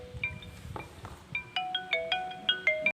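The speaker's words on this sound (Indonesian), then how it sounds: "ada telepon" A phone ringtone for an incoming call plays a bright, fairly quiet electronic melody of repeated short tones that grow more regular over a few seconds and stop abruptly.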